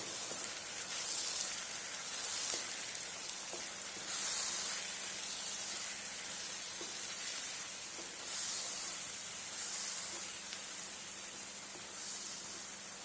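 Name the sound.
tomato masala frying in a pan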